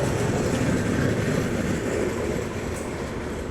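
Indian Railways express passing at a crossing, heard from aboard a special train's pantry car: a continuous rushing rumble of wheels on rail with faint clickety-clack, loud and steady, easing slightly toward the end.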